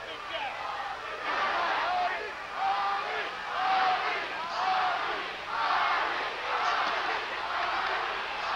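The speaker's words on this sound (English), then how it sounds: "Crowd screaming, chanting, Ali, Ali." A boxing crowd at the Larry Holmes vs Muhammad Ali ninth round roars continuously, swelling in rhythmic waves like a repeated chant, dense and loud throughout.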